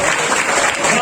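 Applause from a comedy club audience at River Pub in Zagreb during a stand-up show, a dense steady wash of clapping that holds at an even level through a brief stretch.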